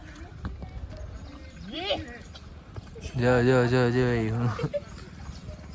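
Horse hooves clip-clop in a short rhythmic run at a stable where mares are gathering, with a person speaking and a loud voiced call over the steps.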